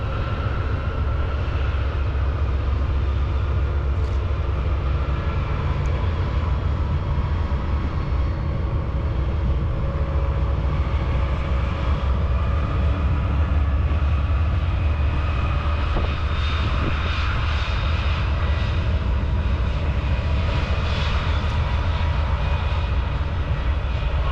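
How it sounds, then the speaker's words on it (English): A loaded BNSF manifest freight train carrying ore rolls down Cajon Pass, a steady, heavy rumble and drone that holds evenly for the whole stretch with a faint metallic squeal now and then. "As you watch this BNSF manifest loaded with ore make its way down the pass"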